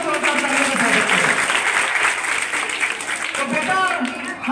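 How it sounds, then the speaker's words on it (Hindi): Loud, dense applause from a school audience fills the hall, steady clapping from many hands with a slight dip midway before swelling again. "एक बार अपने लिए अपने विद्यालय के लिए जोरदार तालियों से स्वागत करें।"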